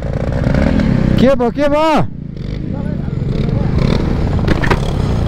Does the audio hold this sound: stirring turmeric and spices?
no